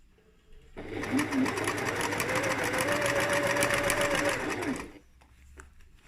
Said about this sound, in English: So we're going to start off back stitching.